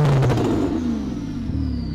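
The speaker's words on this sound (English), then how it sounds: "Listen to that air whistle. I know, it's turbo." A car engine revs and then winds down with a rising-and-falling whistle, loud and close and heard alone without talk.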